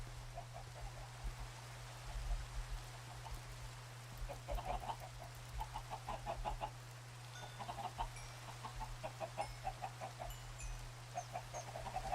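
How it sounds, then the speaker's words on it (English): Chickens clucking in the Minecraft video game, a flock of game chickens making scattered, repeated short clucks under a steady low hum, fairly faint and continuous throughout. "I've, started amassing an army of chickens"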